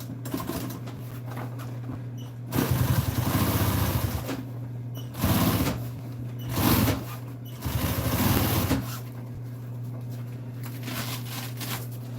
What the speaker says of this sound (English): I'm just gonna put a top stitch on it